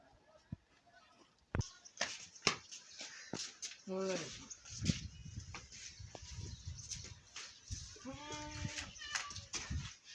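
Two wavering goat bleats sound nearby, separated by a few seconds, amid sharp clatter, knocks and voices talking in the background.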